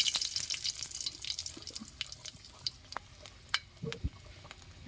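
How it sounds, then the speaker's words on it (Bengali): Dried red chillies dropped into hot oil give a soft, close sizzle with small pops and crackles, faint and uneven, with a brief clatter near the end. "একটু শুকনো লঙ্কা দেবো"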